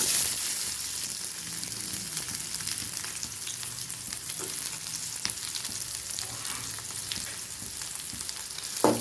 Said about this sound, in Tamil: வெங்காயம் சும்மா லைட்டாக வாங்கினா போதும்